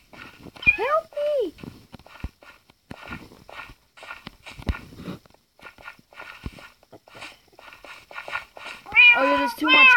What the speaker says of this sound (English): Oh, there's too much kitties.